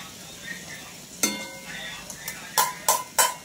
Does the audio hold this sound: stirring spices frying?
yes